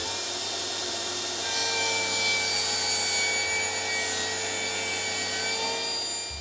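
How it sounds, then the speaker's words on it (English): A table saw with a tapering jig cuts tapers along thick wooden table legs: a steady motor whine rises into a louder, rougher grinding as the blade bites the wood and holds through the cut. "I'm going to cut those on a table saw with the tapering jig"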